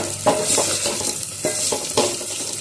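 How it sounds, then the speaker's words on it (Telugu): Vegetables frying in a pan for drumstick sambar, giving a loud continuous sizzle with regular stirring strokes and utensil scrapes against the pan, close by and with no voices. "కనీసం ఐదు నుంచి ఆరు నిమిషాల వరకు ఇవి మంచిగా ఫ్రై అయ్యండి చూడండి"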